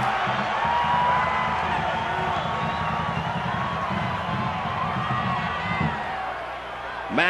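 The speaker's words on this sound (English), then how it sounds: "Now the Rebel crowd making some noise." Home Rebel crowd at an Ole Miss college football game against Florida in 1988, a sustained roar of cheering and whooping from a large stadium audience, fairly loud and steady throughout, swelling slightly near the end.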